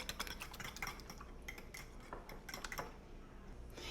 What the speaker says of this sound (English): I'm going to use a fork and try to fluff up those eggs a little bit